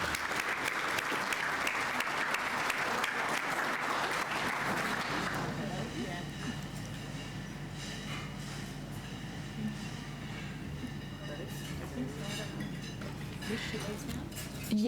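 Audience applause at a building and construction industry apprentice awards ceremony, steady broad clapping that is strong for the first five seconds, then thins to a lighter, sparser patter with background murmur.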